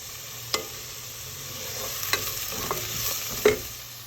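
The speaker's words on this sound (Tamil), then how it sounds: "இப்போ இது எல்லாத்தையும் கொஞ்சம் வதக்கிக்கலாம்." Soft continuous sizzle of food frying in a pan, broken by a few scraping stirs of a spoon against the pan.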